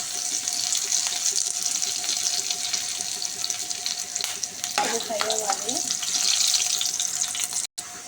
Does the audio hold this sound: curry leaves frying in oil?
yes